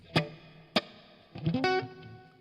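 Electric guitar played through a Fractal FM9/Axe-FX3 preset with reverb, detune and chorus: two plucked notes ring out, then a quick run of distorted, shimmering notes with an ambient tail, alone and close.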